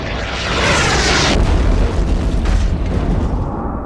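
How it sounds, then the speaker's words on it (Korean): An asteroid strikes off the coast of Mexico's Yucatán Peninsula in a massive blast, a loud broad roaring boom that swells quickly and rumbles on for several seconds, with no voices. "이 소행성은 오늘날 멕시코의 유카탄 반도 연안을 강타합니다."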